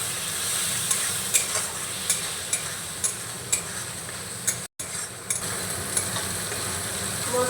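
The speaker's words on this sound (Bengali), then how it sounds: "মশলাটা আমি ভালো করে কষিয়ে নেব।" Spice masala with turmeric and black pepper fries in a pan, a steady close sizzle broken by regular scraping taps from the stirring spoon, with a brief gap near the middle.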